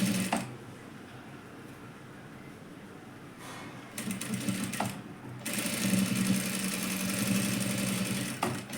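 Sewing machine stitching a blouse at close range, short bursts of fast mechanical whirring, with a brief run near the start and a longer steady run in the second half, light clicks between them.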